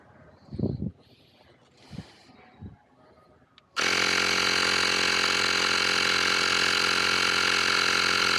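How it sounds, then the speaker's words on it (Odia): A Xiaomi portable electric air compressor inflating a motorcycle tyre switches on suddenly after some quiet handling clicks and runs with a loud, steady, close buzzing drone to the end. "ମୁଁ 36 ସେଟ୍ କଲା ପରେ ପମ୍ପ ଦେବି, ସେ 36 ରିଚ୍ କଲା ପରେ ସେ ବନ୍ଦ ହବ"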